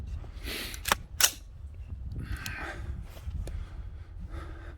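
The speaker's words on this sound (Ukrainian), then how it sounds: "як стріляє карабін з заміненими пружинками" A carbine with replaced springs fires two sharp, close cracks in quick succession, followed by softer clicks and mechanical handling noises at low overall volume.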